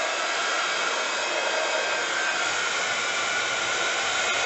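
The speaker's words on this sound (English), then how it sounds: "I'm just going to grab the heat gun" Heat gun blowing hot air onto embossing powder on a craft project, a steady, close, loud broadband whoosh that holds constant throughout with no talking.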